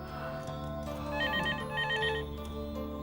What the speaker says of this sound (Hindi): फोन बजा था